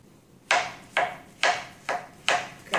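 Slightly overripe plantain being chopped into small pieces with a knife on a board, six crisp close knocks at an even, unhurried pace with quiet between them.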